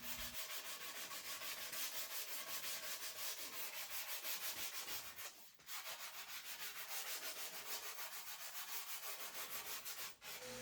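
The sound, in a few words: sanding wood finish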